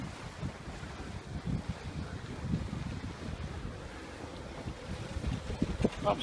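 Wind rushing past a sailboat running under a cruising chute, with steady broadband gusting and low buffeting on the microphone plus faint water wash throughout, no talk.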